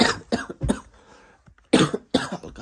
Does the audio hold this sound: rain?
no